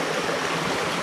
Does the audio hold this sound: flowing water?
yes